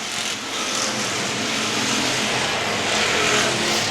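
Slingshot race cars running down the front straightaway at a short oval speedway, a dense, loud engine roar from several cars at once that swells steadily without a break.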